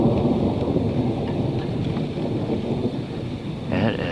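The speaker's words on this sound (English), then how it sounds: "Man, it is non-stop thunder." Continuous deep rumbling thunder rolls under steady rain with big drops, loud and close near cooling towers, with a brighter burst of rain or crackle near the end.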